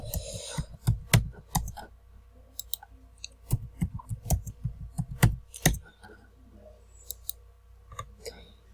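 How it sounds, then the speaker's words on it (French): Password typed on a computer keyboard: a run of sharp, close key clicks in irregular bursts, with a short pause midway before a few more scattered taps. "Je tape un mot de passe."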